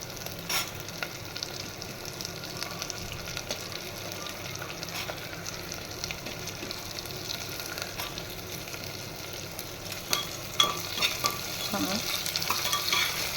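Capsicum, carrot and peas sauté in a pan with a continuous soft sizzle, punctuated by scraping stirs and a few louder clanks near the end, with no one speaking.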